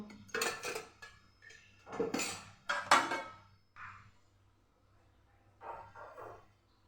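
A pan is set on a gas stove and about two spoonfuls of oil are added for a potato snack, heard as several separate bursts of metal clatter and spoon clinks with quiet gaps between them.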